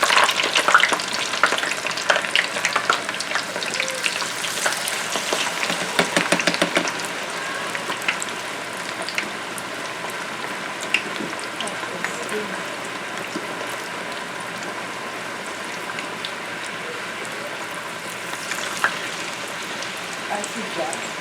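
Small pieces of food fry in hot oil with a dense, continuous crackling sizzle, louder and busier at first and then settling into a steady hiss, with occasional faint talk in the background.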